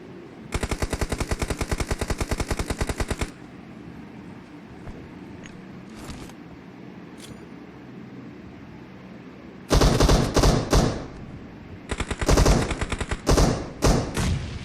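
Rapid automatic gunfire in a PUBG match, a sustained burst of evenly spaced shots laid down as cover fire, followed after a lull by further loud, ragged bursts near the listener.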